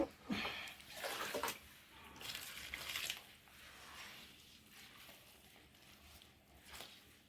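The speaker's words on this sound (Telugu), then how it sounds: "ఇలా నీళ్ళు పోసుకోవాలండి" Splashing bursts of water poured over jaggery gavvalu dough come in a few separate pours with quieter gaps between them. No one speaks.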